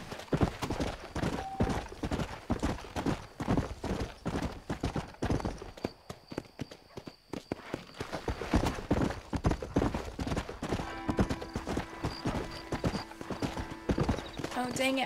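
Horse hooves clip-clop in Red Dead Redemption gameplay, a steady rhythmic gait running through most of the stretch under frequent overlapping talk, with a brief whinny possible.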